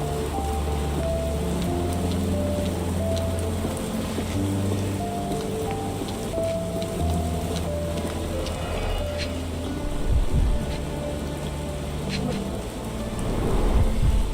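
Rain in the game Sherlock Holmes The Awakened, a soft steady patter of rainfall under sustained musical tones, with a faint swell of rumbling near the end.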